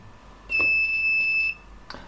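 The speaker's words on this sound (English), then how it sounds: "And it's actually a buzzer blinking." A single beep from an electronic buzzer driven by an ESP32 microcontroller, a shrill steady tone lasting about one second, preceded and followed by faint clicks.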